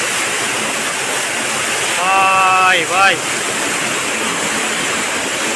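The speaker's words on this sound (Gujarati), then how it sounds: "ગેસર પાણી છૂટ્યું કારા ઉનાળે ભાઈ" Water gushes steadily from a newly drilled farm borewell in summer, a loud continuous rushing roar throughout, with a man briefly calling out over it.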